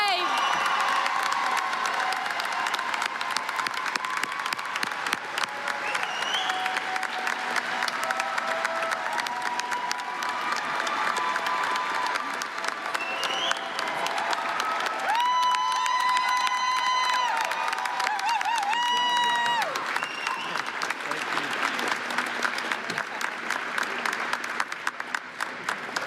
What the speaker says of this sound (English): let's give a round of applause for the distinguished faculty member of the 2023-24 school year, Rod Gray.